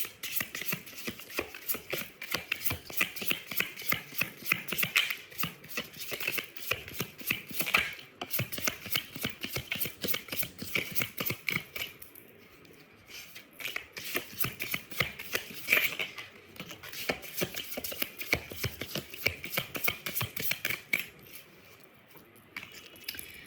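Tarot cards being shuffled by hand during a reading, a quick riffling and tapping pattern that comes in bursts with short pauses, close and fairly quiet.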